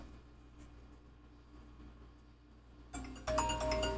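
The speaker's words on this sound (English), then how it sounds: "your phone's going to ring at the most difficult times" A mobile phone starts ringing partway through, with bright tonal rings rising over quiet room noise in a quilting workspace and growing louder toward the end.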